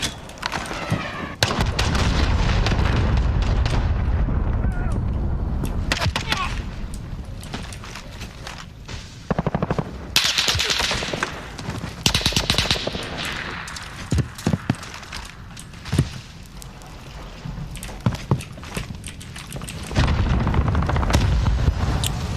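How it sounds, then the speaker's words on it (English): A cruise missile strike in Call of Duty Modern Warfare hardcore mode brings heavy, loud explosion booms, then irregular bursts of gunfire and sharp impacts scattered across the scene, with gaps between. "Allied cruise missile away."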